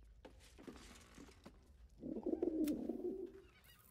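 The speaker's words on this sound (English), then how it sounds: "Pigeons are very sensitive. They can't fly straight if they're disturbed." A pigeon in the video game Baldur's Gate 3 gives a soft, rolling coo lasting about a second and a half, preceded by light clicks and rustles against a quiet background.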